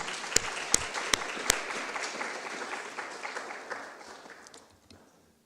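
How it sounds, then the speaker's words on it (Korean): A church congregation at a Sunday service applauds the singers, scattered sharp claps at first swelling into a soft, fairly distant roomful of clapping that fades away toward the end. "이 시간 우리 한번 박수 한번 하겠습니다"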